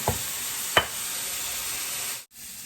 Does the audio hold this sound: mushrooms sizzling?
yes